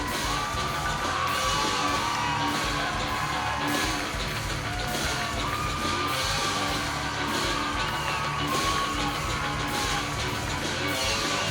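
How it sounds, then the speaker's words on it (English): Capacity crowd at the Las Vegas Hilton before a Wu Lin Feng fight, a constant wash of cheering, shouts and whoops from many people, dense and steady throughout. "A capacity crowd here at the Las Vegas Hilton as they get set to watch 3 rounds of Wulin Feng action"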